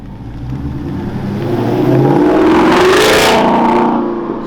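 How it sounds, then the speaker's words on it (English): A Camaro with a Borla exhaust revs up, the engine note climbing steadily to a loud, close peak before easing off. "That Borla sounds so good."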